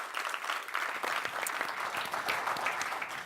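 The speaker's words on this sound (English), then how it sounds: "Please join me in giving them a big round of applause." An audience at a Commonwealth women's innovation panel gives the speakers a steady, sustained round of applause, dense clapping heard at moderate distance without any talk.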